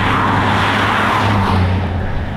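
A 1990s BMW 850CSi with a V12 engine drives past, giving a loud, smooth, continuous engine roar with tyre and road noise, close by and without talking.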